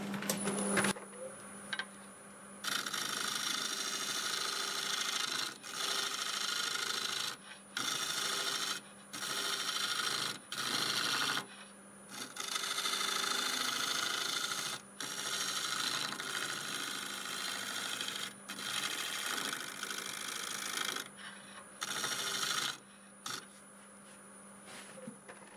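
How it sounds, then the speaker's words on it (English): Scraper on an olive wood bowl spinning on a lathe, a steady rasping, rubbing whir in long passes broken by brief pauses, close and fairly loud with no talk. "I'm going to go over this with the scraper and have a good look at it."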